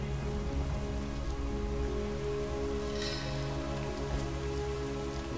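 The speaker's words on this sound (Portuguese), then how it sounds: "Vamos eliminar a chuva por aqui." Rain in the video game Lara Croft and the Temple of Osiris patters steadily and quietly on surfaces, a continuous hiss of drops layered over a soft, droning game backdrop.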